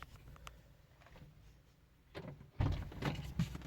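On a 1993 Toyota Corolla DX, the door is worked by its inner handle: after a quiet stretch come a few mechanical latch clicks and clunks, then a louder series of door thumps and rattles close by.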